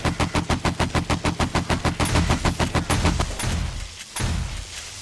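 Rapid bursts of automatic gunfire from the zombie survival game 7 Days to Die, played solo during a feral horde night in an open-air setting, a loud steady stream of shots that runs into heavier, denser firing.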